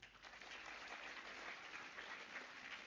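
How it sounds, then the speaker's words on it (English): Audience applause at an Ignite 2025 talk hosted with the Ramakrishna Math, Hyderabad: a dense, steady wash of many hands clapping together, filling the whole stretch evenly at a moderate distance. "Come on, give her a clap."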